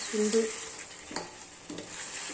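Mutton fries in a pan, a steady faint sizzle broken by a few soft stirring scrapes and clinks; no talking.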